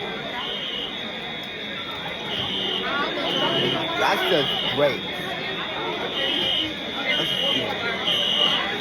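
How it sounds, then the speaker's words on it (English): A school fire alarm sounds during an evacuation at lunchtime, its steady, shrill buzzing tone running continuously beneath a babble of students' chatter and nearby voices talking. "Now everyone has to evacuate the school building. All because of the fire alarm."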